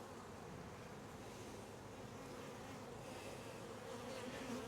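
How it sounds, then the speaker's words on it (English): A dense colony of honeybees droning inside a hive box, a steady, close, continuous buzz that swells slightly toward the end. "And there's still lots of bees in here,"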